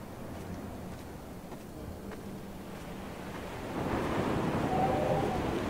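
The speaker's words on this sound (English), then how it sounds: "that wind blowing through here is quite spooky" Wind blowing through a cave in the video game Dear Esther, a steady hollow rush with low surf-like rumble that swells louder in the last couple of seconds, no voices.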